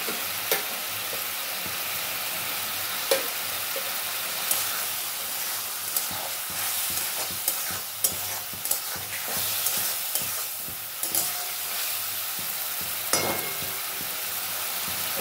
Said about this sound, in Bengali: ভাজা আলুটাও আমি কিন্তু দিয়ে দেবো, দিয়ে সমস্ত মশলার সাথে আলুটাও কষিয়ে নেবো